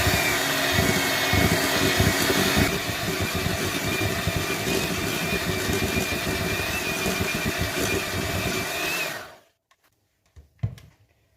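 An electric whisk beats sponge cake mixture for a Victoria sponge, a loud steady motor whir for about nine seconds that cuts off abruptly, followed by a few faint clunks.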